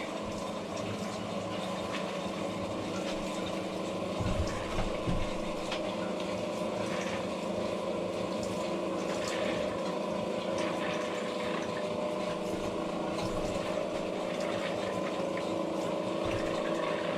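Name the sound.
water pump running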